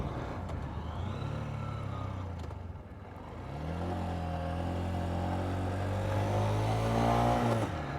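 A Honda CB125F single-cylinder motorcycle engine revs, its pitch rising and falling with the throttle; a quieter dip midway, then a longer climb that builds louder toward the end, close by and without talking.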